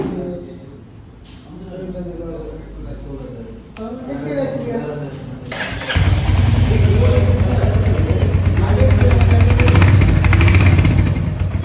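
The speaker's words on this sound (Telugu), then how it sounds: "మీకు చెప్తున్నా కదా రాయల్ ఎన్ఫీల్డ్ ఒక బైక్ అని చెప్పి, ఇది ఆ బైక్" A Royal Enfield 350 in Rebel Red fires up and settles into a loud, steady idle close by, its throaty single-cylinder thump going on after a stretch of talk and background chatter.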